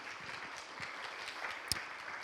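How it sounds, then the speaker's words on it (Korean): An audience applauds at a university group worship gathering in a church, a soft, even wash of many hands heard from a distance, with no talking. "한승환 장로님을 보내셔서 귀한 강의 듣게 해주신 하나님께 한 번 더 영광의 박수 올려드리겠습니다."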